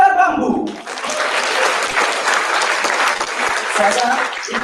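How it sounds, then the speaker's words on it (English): Audience applause for the performer Agar Bambu at the IYSCA 2016 event, loud and dense, opening over the end of a voice and holding as a steady wash of clapping for several seconds. "Give another applause for Agar Bambu."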